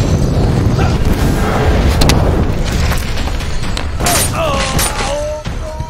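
A fire spell blast cast from the hand in the video game Blade & Sorcery, a loud, sustained roaring rumble of booming bursts that fills the whole stretch, with a few thin whistling tones near the end.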